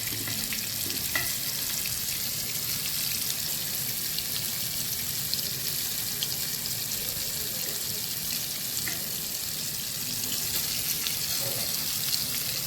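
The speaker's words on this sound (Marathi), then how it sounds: "व्यवस्थित त्याला फ्राय होऊन द्यायचं बारीक गॅसवरती एक साईड व्यवस्थित भाजून झाली का ते आपण उलटायचं" Fresh Bombay duck fish fries on low heat in a small pan, a steady, even sizzle with faint crackles and occasional scrapes, close and continuous without talk.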